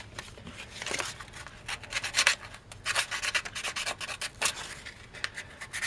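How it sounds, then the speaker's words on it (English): Close, rhythmic sanding strokes rasp against a hard epoxy surface, starting soft and growing louder in repeated scratchy bursts. "So we will need to sand it down."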